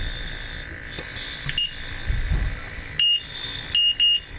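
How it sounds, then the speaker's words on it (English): A portable gas detector sounds its A1 alarm: short, sharp electronic beeps in a few separated bursts, loud and close, with quiet handling noise in between. "An A1 alarm"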